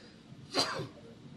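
A single sharp sneeze bursts out at a curling match, loud and close against a quiet arena background.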